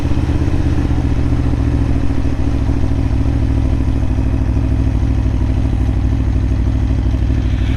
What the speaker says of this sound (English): And we'll auto blip her down. Gives a little buck as she goes into gear.